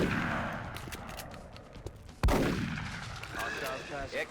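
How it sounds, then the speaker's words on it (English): Shotgun rapid fire in the video game XCOM Enemy Within, a single heavy blast midway that booms and decays over a low rumbling game ambience. "he then uses rapid fire with his shotgun to hopefully get the kill"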